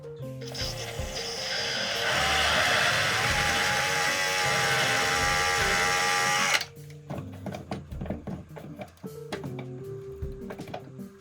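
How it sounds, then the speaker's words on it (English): A power drill whines loudly for several seconds drilling a towel holder mounting hole in an Airstream, then stops, followed by scattered clicks, taps and handling noises. "Now let's drill a hole right here so we can mount the towel holder."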